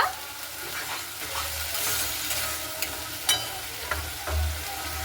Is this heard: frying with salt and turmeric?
yes